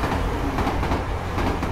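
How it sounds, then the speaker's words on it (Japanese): A train approaches a station platform with a steady, loud rumble and faint rhythmic clatter of wheels on rails, with no voices. "電車が接近してる"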